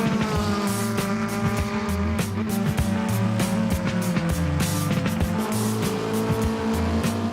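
Race cars on a training session at a racing track warming their tires, with engines droning in steady layered tones and repeated passes and gear shifts, loud and continuous with no talking.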